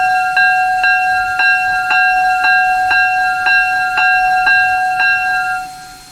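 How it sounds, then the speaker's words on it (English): Locomotive bell of a Strike Witch 0-4-0T geared engine in a video game, ringing in a steady, even rhythm of about a dozen bright metallic strokes, fairly high-pitched and clear, with no voices over it. "What about the bell sound?"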